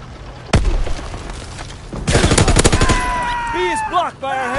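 Video game gunfire on PS4: one sharp shot, then after a pause a loud, rapid automatic burst lasting about a second, followed by shouted voices and scattered further shots.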